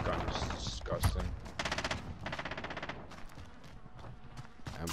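Rapid bursts of M4 rifle fire in the Modern Warfare beta video game crackle in quick repeated volleys, with a short gap between them, close and fairly loud.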